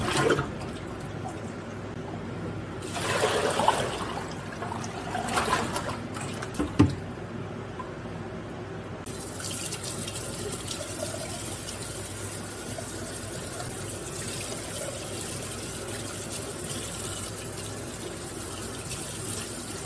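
Liquid drains off a jar of pressure-canned homemade corned beef, a steady trickling and splashing rush that swells early on, then settles into a continuous watery hiss; nobody talks.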